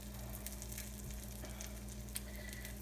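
Glamorgan sausages fry gently in a pan over low heat, giving a soft, even sizzle with occasional faint pops and scrapes. The sound is quiet and close, with no voices.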